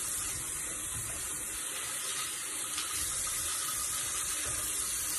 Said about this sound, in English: Okay, I'm still washing my face.